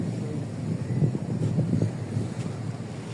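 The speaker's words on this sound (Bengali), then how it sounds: "বাতাস টাতাস আছে আর কি" Steady wind rushing and buffeting against the microphone at the Cox's Bazar seaside, with a low surf-like roar underneath and no talking.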